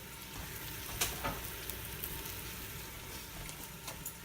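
Meat browning in a pan for a Sunday tomato sauce, a soft steady sizzle with occasional crackles and pops, fairly quiet and alone.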